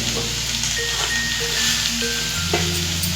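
Spice masala for stuffed bitter gourd frying in a pan, a steady close sizzle throughout with faint stirring scrapes, no voices.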